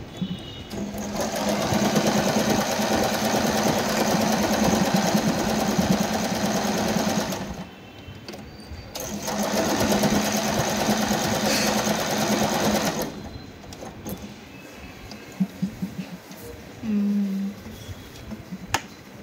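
Usha Janome Wonder Stitch sewing machine stitching a decorative ABCD design at a shortened stitch length, a fast rhythmic whirring clatter that runs in two long bursts with a pause between, then stops and gives way to a few clicks and a brief whir.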